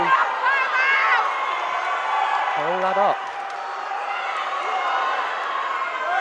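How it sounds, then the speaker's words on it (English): A crowd at a women's boxing match roars and cheers loudly throughout, while a commentator speaks over the steady din. "The crowd are going absolutely wild here."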